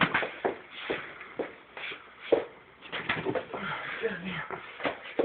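A bird indoors coos softly and shuffles about in a few short bursts, quiet and close, as people talk.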